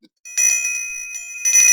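A bright bell notification chime rings out twice, clean metallic tones with a short pause between strikes and a lingering ring.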